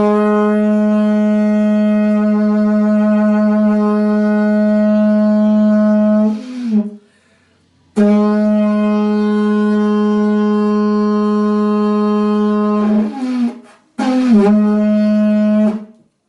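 Conch shell trumpet (pututu) from Florida blown in long, loud, steady horn-like blasts, two sustained tones with a pause between and a shorter final blast, each wavering as it breaks off.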